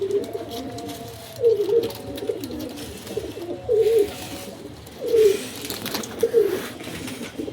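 Pet pigeons kept in a home loft coo in several separate throaty bursts, fairly close, with quiet gaps and faint background noise between the calls.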